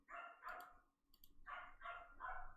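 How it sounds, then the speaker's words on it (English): A dog barks in the Ace Attorney video game: several sharp, close barks in two quick groups separated by a short pause, loud and clear with no talking over them. "Even the dog's barking."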